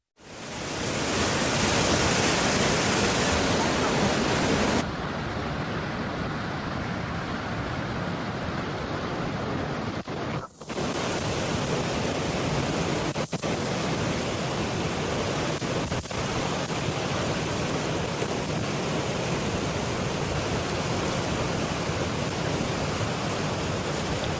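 Steady, loud broadband roar of rushing floodwater after torrential rain in Milwaukee fills the whole clip, with a brief dip and a few faint clicks partway through.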